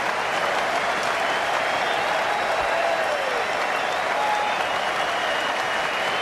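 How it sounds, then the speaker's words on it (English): Warm, steady applause from a cricket ground crowd after a big one-day international innings of 139 off 92 balls, a dense continuous patter filling the whole stretch at even volume. "Warm applause."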